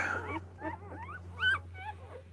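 Newborn puppies whimpering and yipping in a litter as their mother shifts around, a run of several thin, rising cries close by with a steady low hum underneath.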